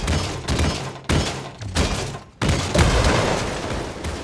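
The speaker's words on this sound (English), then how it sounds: "the grenades with the shotgun blast just came out hot" Grenade explosions and a shotgun blast in a multiplayer video game: a series of four or five heavy, loud bursts spaced roughly half a second apart, each followed by a decaying rumble, with the last blast trailing into a long, noisy tail.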